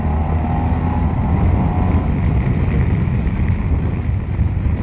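A Yamaha Tmax or Kymco AK 550 maxi-scooter engine drones loudly and steadily up close as it accelerates, buffeted by heavy wind rush, with no voices.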